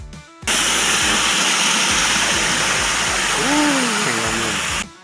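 Clear creek water rushes steadily over rocks in a rural hillside stream, a loud continuous broadband wash, with a brief voice murmuring near the end.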